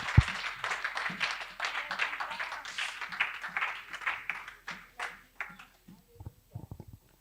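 A congregation applauding during a church service, with dense, sustained clapping from many hands that rises and falls in waves, then thins out into a few scattered claps near the end.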